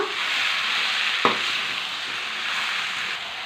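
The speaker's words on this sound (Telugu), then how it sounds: "టమాటాలు వేసుకున్నాం కొన్ని మామిడికాయ మొక్కలు సొరకాయ అండి కలుపుకున్నాం కలిసేదాకా" Bottle gourd, tomatoes, green chilies and raw mango pieces stirred together in a hot pan: a loud, even sizzle and hiss throughout, with one sharp spoon scrape partway through.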